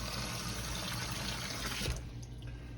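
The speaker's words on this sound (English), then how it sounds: "I'm gonna fill this up till it covers the peas. Till the water just covers over the peas." Water runs steadily into an Instant Pot holding purple hull peas, a close, dense pouring rush that stops abruptly near the end and leaves a quiet room with faint drips.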